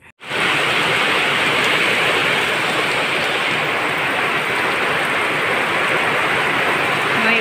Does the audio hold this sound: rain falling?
yes